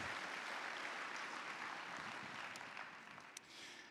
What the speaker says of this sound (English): Please give yourself a big round of applause because you deserve it